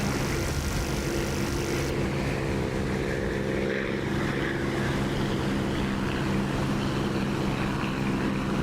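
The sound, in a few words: Corsair propeller aircraft engine in DCS flight simulator video game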